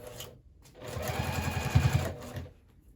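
A sewing machine topstitches a handbag along the edge of the exterior fabric in one steady, close burst of rapid stitching that rises and fades over a few seconds.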